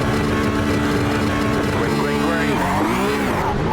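Porsche Cup 992 race cars running at Imola in the iRacing sim, a steady loud engine drone with rising and falling harmonic pitch sweeps as revs climb and shift near the end.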